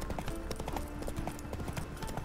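Horse in The Witcher 3: Wild Hunt, ridden on a journey across Skellige, clip-clopping at a steady brisk trot with rhythmic close hoofbeats under a continuous background bed of game ambience.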